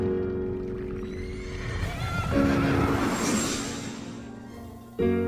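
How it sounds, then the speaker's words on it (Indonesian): A horse whinnies in a long, loud, shrill call while running around a wheat field, followed by a brief further burst at the end. "Kuda itu berlarian mengelilingi lahan gandum."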